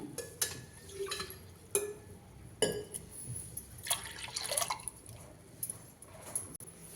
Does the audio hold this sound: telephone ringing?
no